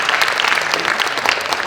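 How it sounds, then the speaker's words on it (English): An audience at a UN symposium plenary session gives a steady, dense round of applause for two speakers, many hands clapping together close by throughout. "Would you like to join me in giving them, the two speakers, a big round of applause?"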